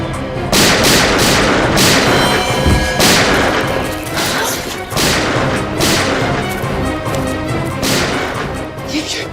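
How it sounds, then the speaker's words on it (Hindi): Repeated gunshots heard from outside, a string of loud bangs and crashes arriving every second or so across the whole stretch, dense and booming. "ये गोलियों की आवाज कैसी? लगता है बाहर से आई है।"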